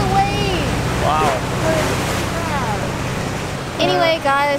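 Waves slapping along a Bangkok canal make a steady broadband wash beneath voices that talk and exclaim throughout, with a boat likely passing nearby.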